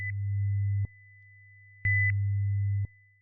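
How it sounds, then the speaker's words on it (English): Two modulated sine waves in an audio analysis demonstration: a steady low tone, a softer pure tone between them, and brief higher chirps at the edges of each loud stretch, clean and synthetic with no voice. "In the following example, I have 2 modulated sine waves."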